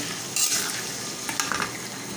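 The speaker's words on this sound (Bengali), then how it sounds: "টমেটোগুলো দিয়ে দিচ্ছি একসাথে মশলার সাথে কষিয়ে নিই" Tomatoes sautéed with spices in a pan, a soft sizzle with a few short stirring scrapes and clinks of the spoon, close and fairly quiet.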